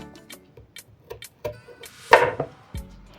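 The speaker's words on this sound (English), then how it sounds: "I'm going to start off by chopping my potatoes lengthwise" A knife chops potatoes lengthwise on a board in irregular taps, with one louder, sharper cut near the end; close and fairly crisp.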